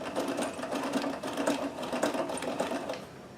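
A Necchi BU Nova sewing machine runs a double-needle stitch at long stitch length, its close, steady mechanical whirr and rapid rhythmic needle clatter continuing without a break.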